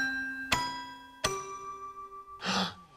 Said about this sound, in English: The secret sound is the toy piano